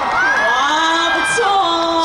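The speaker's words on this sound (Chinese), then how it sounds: "掌声鼓励一下" Audience at an outdoor Christmas concert on the New Taipei City Hall plaza cheering and whooping, a short, loud burst of mixed crowd voices.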